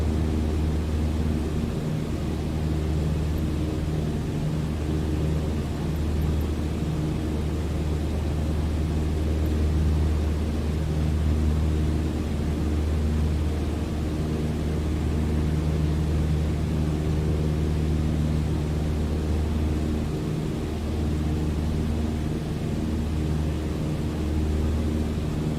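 A Cessna 182 piston engine drones steadily in Microsoft Flight Simulator, a constant low, even hum with a tonal buzz that holds unchanged throughout, with no talking.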